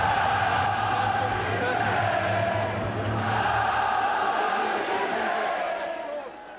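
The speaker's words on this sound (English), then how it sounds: "to a thunderous roar from the huge crowd" A huge crowd at a St Helens rugby match roars in a sustained, dense wash of voices and cheering, steady throughout and easing slightly at the end.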